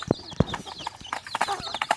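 Country chickens pecking and clucking over scattered rice in the morning, with scattered short clucks and bursts close by and no talk.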